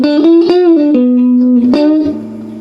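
Electric guitar played through a Frugal Amps AB763 single-channel combo with the reverb dwell turned all the way down, a run of plucked notes each cut short with only a brief tail, clear and close.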